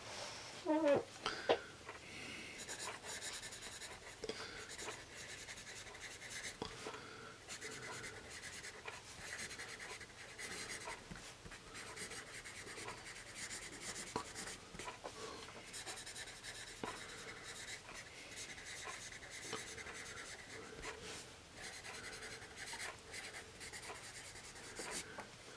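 Vintage Dixon Executive #2 graphite pencil writing on paper, a steady soft scratchy rubbing that runs continuously at close range with small strokes and pauses, no voices.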